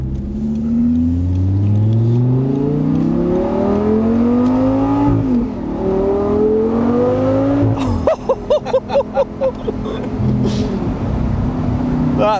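A 2012 Audi R8 GT Spyder V10 engine revs hard, its pitch climbing in repeated sweeps before dropping, followed by a burst of sharp throttle blips and crackles, loud and close.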